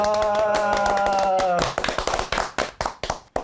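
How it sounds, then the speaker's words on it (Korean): Welcoming applause for a legal broadcasting reporter guest on a Korean talk show. A sustained tone and voices come first, then a small group's scattered, separate claps ring out close and irregular. "환영의 박수"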